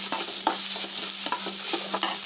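Onions and curry leaves sauté in a pan for a Tamil pakoda kulambu, a steady close sizzle and frying hiss broken by a few soft scrapes of stirring, with no talk.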